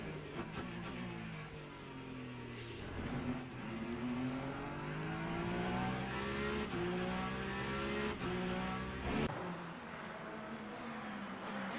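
A race car in Le Mans Ultimate at Bahrain braking hard into a turn, engine pitch sweeping down through the gears with rising and falling whine, loud and close, ending in an abrupt drop before the next surge.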